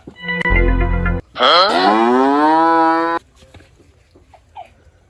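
A cow at a cattle market lets out a loud, close, drawn-out moo lasting about two seconds, preceded by a shorter low bellow, then quieter background noise.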